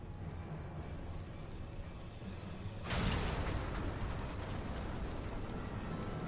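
An airship in the video game Final Fantasy XIV takes a hit, and a sudden deep explosive burst erupts from a steady low rumble, followed by a sustained roaring wash of debris and noise.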